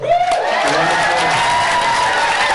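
A club audience at a comedy and music show in Boston applauds loudly, with excited voices whooping and shouting over the steady clapping throughout.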